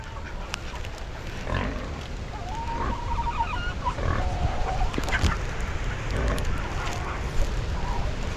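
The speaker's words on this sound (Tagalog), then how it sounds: "Manok." Chickens cluck softly while pecking at small bananas in a farmyard, amid pigs and a steady background of rustling noise.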